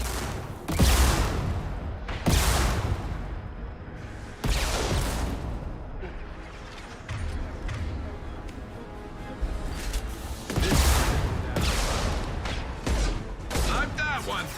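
Heavy weapon fire in the video game Mass Effect 2: several loud, booming blasts spaced a few seconds apart, each decaying into rumble, with a voice speaking in between.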